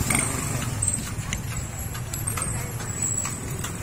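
A horse's hooves clop in a steady rhythm on pavement pulling a kalesa carriage, with faint jingling and a low rumble of traffic in the background.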